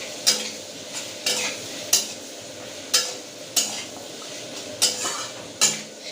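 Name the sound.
stirring onions lightly in oil for egg korma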